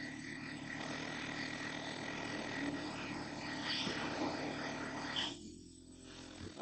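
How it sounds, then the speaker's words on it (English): An air compressor runs steadily beside an old Coats 1010 tire machine during tire mounting, a continuous droning hum that cuts off near the end, leaving a quieter background. "You can probably definitely hear the air compressor in the moment."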